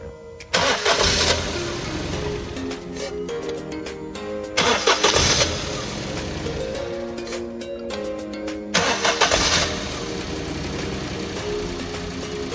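A Maruti Celerio K-Series engine, just refilled with distilled water during head gasket repair, cranks and starts three times in succession, each start a loud whirring burst settling into a steady running hum, close and alone.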